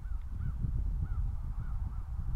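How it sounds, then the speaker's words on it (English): Gulls call repeatedly around a hovering Hubsan Zino Mini Pro drone outdoors near a road, their short rising cries standing out over a steady low rumble of wind and motor noise. "I don't like those seagulls."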